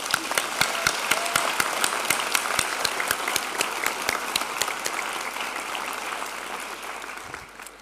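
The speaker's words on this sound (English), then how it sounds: "I think you should give yourselves another big, big round of applause." Graduates and guests at an honorary doctorate ceremony give sustained applause, a steady wash of many hands with some sharper nearby claps, fairly even throughout with no talk.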